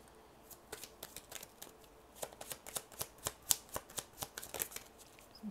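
Tarot cards riffled and snapped in a rapid series of crisp, close flicks, sparse at first and then a steady rhythm of sharp card slaps, with no talking.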